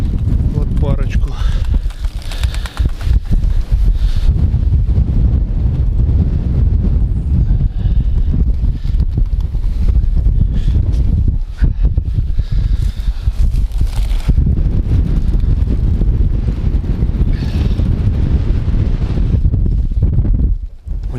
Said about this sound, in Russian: вот ветрище и сильный, и холодный